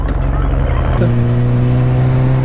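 A motorcycle engine revs up loud and close, its drone climbing in pitch before settling into a strong, steady roar.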